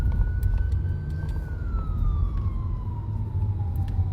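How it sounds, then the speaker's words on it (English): A wailing ambulance siren sweeps slowly downward in pitch, loud and steady over heavy low traffic rumble for the whole stretch. "Okay, it's an ambulance."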